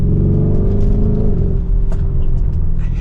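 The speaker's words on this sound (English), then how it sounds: "There's pops in that exhaust." A Lamborghini Urus in Corsa mode revs with a deep loud exhaust rumble that tapers off, followed by a few sharp crackling pops near the end.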